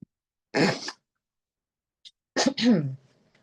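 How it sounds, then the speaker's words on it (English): A person clears their throat twice indoors, two short rough bursts separated by a brief pause, close and fairly quiet, with no other sound around them. "I need to clear my throat 1 second."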